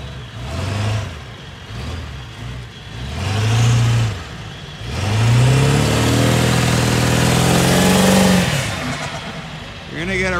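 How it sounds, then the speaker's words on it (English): A Ford Super Duty 4x4 truck does a burnout, its engine revving hard in repeated rising surges and then holding a long, loud roar with tire noise, close and dominant throughout. "Oh, a little burnout action here."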